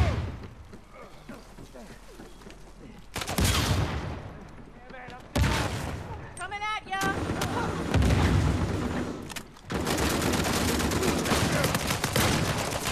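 Gunfire and explosions from the Uncharted: The Lost Legacy multiplayer match, loud bursts and rattling shots coming in waves over dense game noise, with short gaps between volleys.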